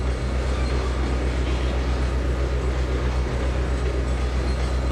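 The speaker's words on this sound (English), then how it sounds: "An old Amtrak engine." An old Amtrak locomotive rumbles steadily in Trainz 2022, a constant loud low engine drone with rail noise running unbroken throughout.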